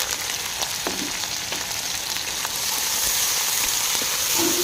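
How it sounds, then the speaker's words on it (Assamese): Dried chillies and garlic fry in a little hot oil for pickle, a loud, dense sizzle with scattered sharp pops that swells slightly toward the end, with no talking. "অলপ তেল গৰম কৰি ভোট জলকীয়া, নহৰু ভাজি লৈছোঁ।"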